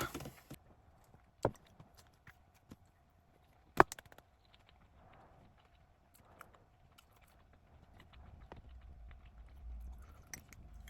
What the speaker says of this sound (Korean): 오늘은 피자스쿨의 오지 치즈 포테이토 피자 먹어보면서